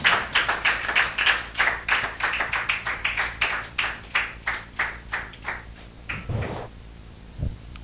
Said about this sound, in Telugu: ప్రేమపూర్వకంగా వారిని ఆహ్వానిస్తుంటుండగా చప్పట్లు కొడుతూ వారిని ఆహ్వానించుకుందామండి